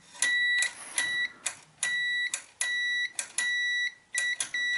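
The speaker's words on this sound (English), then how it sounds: "and then set it so you get the buzzer" A multimeter set to continuity beeps as a microswitch is operated, giving a series of sharp electronic tones of uneven length, some long and some clipped short, repeating close up with no talking.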